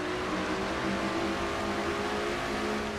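An onboard view of race car number 3 in a Castrol GTX Cup Series racing video game at the Busch 500, with a steady, droning engine hum held at constant pitch and no talking.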